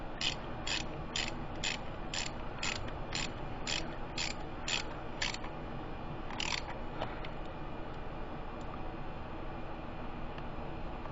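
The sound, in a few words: ratchet snugging spark plugs on a 2007 Saturn Ion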